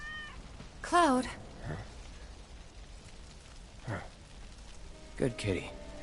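A cat meowing in Final Fantasy VII: one clear, rising meow close up, then fainter rustles and a couple of short chirping mews later, with voices nearby over soft background ambience.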